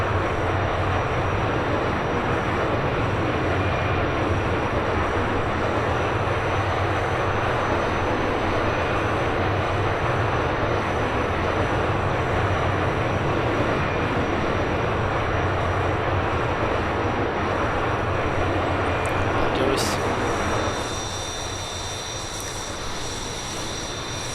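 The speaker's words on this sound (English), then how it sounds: "And that's your engine shutdown sound" A MiG-15 jet engine winds down at shutdown in Microsoft Flight Simulator. A loud, steady broadband roar runs close and alone for about twenty seconds, then drops abruptly to a quieter hum, with no talk over it.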